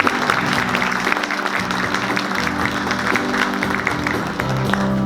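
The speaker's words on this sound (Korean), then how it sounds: "큰 박수로 환영해 주시면 감사하겠습니다." Audience applause welcoming a former chairman at a textile and fashion industry New Year gathering in a hall: continuous, fairly loud crowd clapping with a low hum of voices beneath it.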